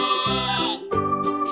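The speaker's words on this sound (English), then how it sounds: "Sheep." A sheep gives two short, wavering bleats in quick succession, close and clear, with no other sound around them.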